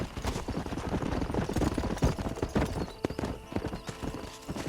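Horse hooves clip-clopping at a steady trot in Red Dead Redemption, close and rhythmic, with a faint whinny and occasional speech over the hoofbeats.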